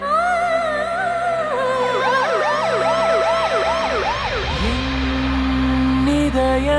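An ambulance siren wails loudly and close, first a steady tone, then a rapid rising-and-falling yelp, before dropping away under a low continuous hum, with no speech.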